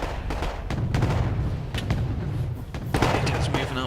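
Artillery strikes in the strategy game Wargame AirLand Battle, a rapid series of deep booms and thuds rolling over each other, loud and continuous, ending in a heavier burst.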